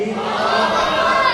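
Crowd at a religious gathering shouting back in unison in answer to the Takbeer slogan, a brief loud massed roar of voices held throughout.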